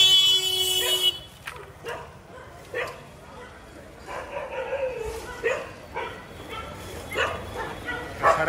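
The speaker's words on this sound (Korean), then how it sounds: "애들이 긴장했어요. 지금 산책하는 게 보고서 짖고 있습니다." Several dogs bark at people walking past their territory in repeated sharp bursts of barks and yips, some near and some farther off. Someone talks over them throughout.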